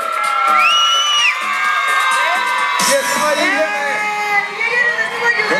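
A crowd cheers and whoops loudly for a raffle winner at a company event where new motorcycles are given away, while a host talks over the noise on a microphone.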